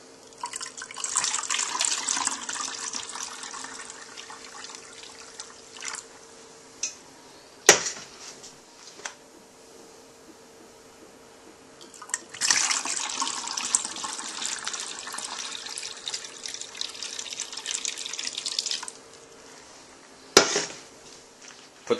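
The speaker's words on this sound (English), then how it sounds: "Then fill it up with the rest of the warm water." Warm water poured from a tap-like stream into root beer bottles, a steady splashing run for several seconds, a pause with small knocks, then a second long pour, fairly close and alone.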